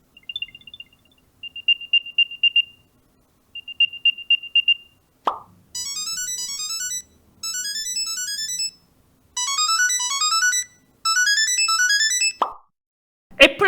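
Finder alerts from a Galaxy SmartTag+ and an Apple AirTag: first a soft chirping tone in three short bursts, then a louder, brighter trilling melody repeated in four loud blocks, separated by brief clicks.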